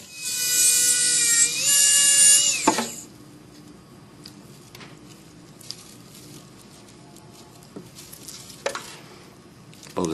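A dental rotary burr cuts and shapes thermoplastic putty for an NTI device, giving a loud, high-pitched whine for under three seconds. It is followed by quieter scraping and handling noises with a few faint clicks.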